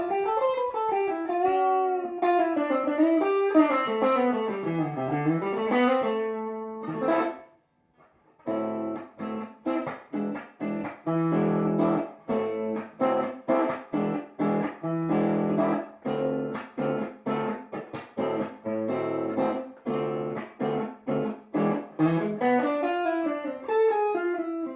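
An electric guitar, a Telecaster on its bridge pickup, plays through an amplifier with a bright, slightly driven tone: bending melodic lines, then choppy strummed chords, with a brief pause between.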